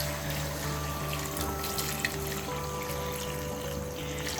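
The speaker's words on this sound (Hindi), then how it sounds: "तो यहाँ पे मैं पानी ऐड करूँगा ज़्यादा।" Water pours steadily into a pot of pumpkin and mutton curry, a continuous soft trickle and splash at low level with no talking.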